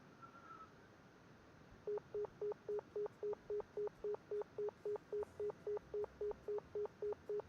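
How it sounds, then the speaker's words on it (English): A telephone rings in a visual novel video game, with a steady run of identical electronic ring pulses in a regular rhythm, each burst clear and evenly spaced over a quiet background. "Oh, that's the noise of the phone?"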